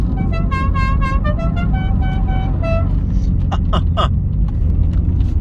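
A car horn toots in a rapid series of short honks over loud road noise, followed by a few scattered squeaky sounds.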